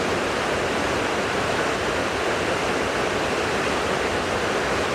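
A white waterfall tumbling over rocks roars as a dense, constant broadband rush, loud and unbroken throughout with no other sounds.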